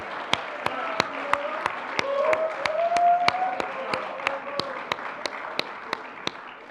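A school awards chapel audience applauds two honorees, with steady, evenly spaced claps standing out over a soft murmur of the crowd.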